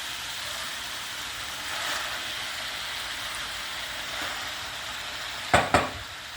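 Steady sizzling of beet leaves sautéing in a crowded pot, with a soft stir midway and two sharp clanks of a utensil against metal near the end.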